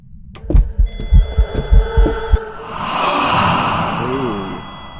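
Phasmophobia ghost breathing close by: a series of rhythmic heavy breathy pulses, then a longer airy exhale-like hiss fading out, with an eerie tonal hum underneath.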